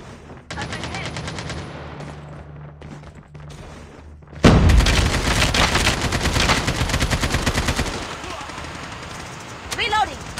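Loud, dense automatic gunfire in the Call of Duty Mobile Alcatraz map, with sparse shots early and then sustained rapid bursts that fill the middle, easing off near the end.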